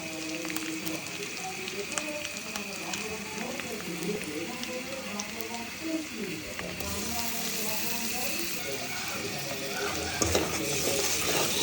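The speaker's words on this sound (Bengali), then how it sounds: "আদা রসুনটা ধরে সব মশলা ধরে কষে" Ginger-garlic paste and spices being fried and stirred in a pan, a steady crackling sizzle with scraping strokes, growing somewhat louder toward the end, with a voice talking over it.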